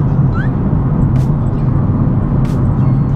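A car cruising in sixth gear at about 90 km/h, with a steady, loud low engine and road rumble throughout and no gear changes, plus a couple of brief faint higher noises.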